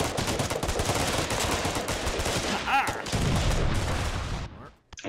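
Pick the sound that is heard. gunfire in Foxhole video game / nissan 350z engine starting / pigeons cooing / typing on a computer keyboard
gunfire in Foxhole video game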